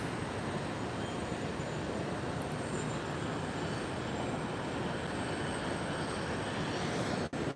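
A WestJet airliner taxis at Minneapolis–Saint Paul airport, giving a steady, loud broadband jet roar that holds evenly throughout before cutting off briefly near the end, with no talking.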